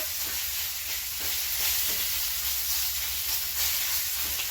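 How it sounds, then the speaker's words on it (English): Pork slices for a pork and apple stir-fry are laid in a single layer to sear, giving a loud steady sizzle and hiss from the hot pan with faint clicks, close and without talking. "I just want to put it in a single layer and just let that sear."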